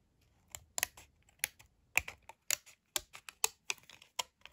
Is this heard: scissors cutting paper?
yes